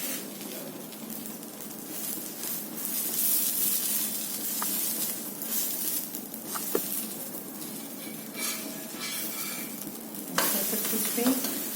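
A Kadapa karam dosa cooks on a pan with a steady, close hissing sizzle throughout, broken by a few small clicks and scrapes, with no talking.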